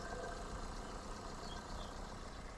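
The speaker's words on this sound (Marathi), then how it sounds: "या शॉट मध्ये मी तुम्हाला इंजिनचा साऊंड सुद्धा कव्हर करतो।" A 2018 Maruti Breeza engine idles with a steady low, even rumble, heard close and alone for a few seconds.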